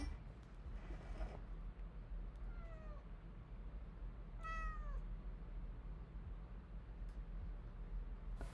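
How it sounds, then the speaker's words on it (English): A cat meows several times in a quiet room, clear and fairly close, with rising and falling harmonic calls against a low steady background hum. "Look at this cat."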